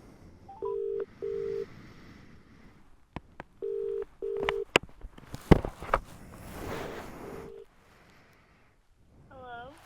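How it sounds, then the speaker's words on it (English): A mobile phone dials a call with a series of short, clean electronic tones in pairs, followed by faint rustling and handling knocks, then a quiet pause before a voice begins at the end. "I phoned my partner to let her know."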